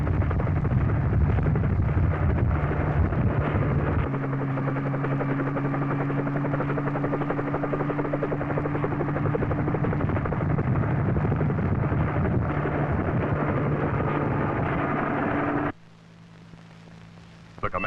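Helicopter lifting off with the president aboard for an aerial tour of the Cape Canaveral space launch areas, a loud steady rotor and turbine roar that drops off sharply near the end.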